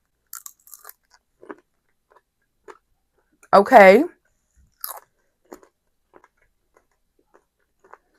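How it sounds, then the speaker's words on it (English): Freeze-dried baked cheese snacks crunch between the teeth in quiet, scattered bites and chews, with one short spoken word in the middle. "They're definitely crunchy, but yet they have a little bit of chew to them."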